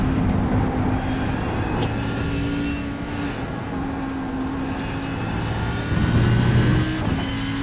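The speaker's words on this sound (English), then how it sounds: "Car's very distinctly different as far as sound goes, and I guess there's quite a difference between the power plants as well" GT endurance racing cars at the 2018 Spa 24 Hours, loud and close, with steady high engine drone and tonal whine, swelling as a car accelerates past near the end.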